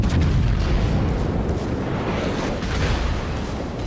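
Bismarck battleship main guns firing shells at a Hipper cruiser in World of Warships, a continuous loud rumbling barrage of booms and low blasts filling the whole stretch with no talk.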